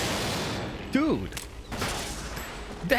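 Gunfire in the stealth action game Metal Gear Solid 2, short sharp shots breaking through a steady background with a voice audible in between.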